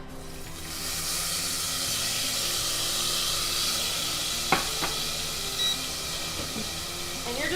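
Ginger and garlic sizzle in hot oil in a pan, a steady bright hiss that continues throughout, with a couple of sharp utensil clinks partway through.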